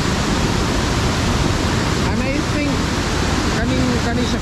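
Water pours strongly from a dam at Malubog Lake in Toledo City, Cebu, as a loud, steady rushing roar that continues throughout, with faint voices over it.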